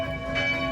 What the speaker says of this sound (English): So this is the main church in Nuremberg, and we got to hear the noon bells ring